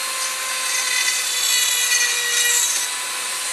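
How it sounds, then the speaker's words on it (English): A Dremel rotary tool fitted with a cutting head grinds plastic off a prop piece, producing a continuous close, harsh high-pitched buzzing rasp that holds steady throughout without speech. "We're gonna go ahead and Dremel this off."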